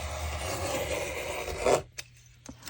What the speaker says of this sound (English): Now this stuff does cut really well, this canvas.